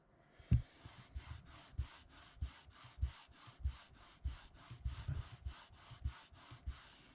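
Repeated rasping, scraping strokes at a steady rhythm as a stuck piece is gouged out of a craft project, close and fairly quiet, with one or two sharper knocks and no talking.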